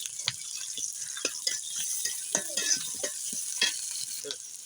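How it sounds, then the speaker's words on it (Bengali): Banana stem frying in a pan in a village-style dish, stirred with scattered scraping clicks over a steady soft sizzle as cumin goes into the middle, with no talk. "এবার নেড়ে নিয়ে এভাবে মাঝখানে জিরে দিতে হবে।"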